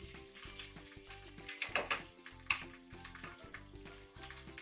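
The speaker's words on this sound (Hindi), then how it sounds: "अब हम इन्हें थोड़ा सा फ्राई दोस्तों, आप देख सकते हैं ये थोड़े थोड़े ब्राउन" Ingredients for Maggi noodles frying in a pan, a steady close sizzle with occasional stirring scrapes and small bursts, no talking.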